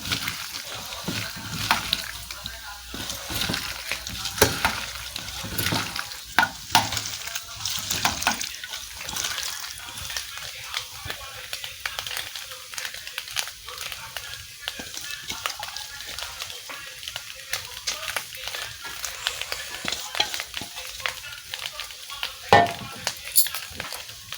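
Fish being mixed by hand with onion, turmeric, salt and mustard oil before cooking in banana leaf: continuous wet squelching and rubbing with small clicks over a steady background noise, close and moderately loud, with no clear talk.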